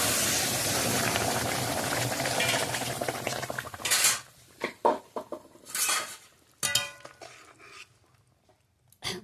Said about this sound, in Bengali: এবারে ফোড়নটা দিলাম